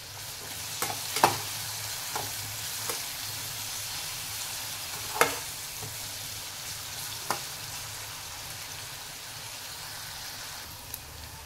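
Onion, garlic and slit green chillies sauté in a pan for bhendi bhaji, a steady soft sizzle broken by a few sharp spatula scrapes and clicks, with no talking.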